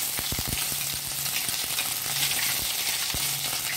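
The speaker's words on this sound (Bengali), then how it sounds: "কড়াইতে তেল গরম হয়ে গেলে আমরা পেঁয়াজ পেস্টটা দিয়ে দেবো" Onion paste frying in hot oil in a wok for a dried loitta fish dish: a steady, close sizzle with a few sharp clicks and taps.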